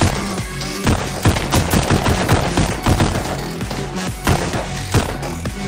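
Rapid gunfire in the VR shooter Pistol Whip, a dense stream of loud shots and thuds overlapping one another, with occasional sharper bursts standing out over several seconds.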